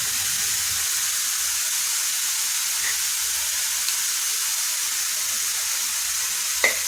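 Beans and finely chopped cabbage frying in a pan for a potato-free veg cutlet, giving a steady soft sizzle and hiss throughout, with a couple of faint clicks from stirring.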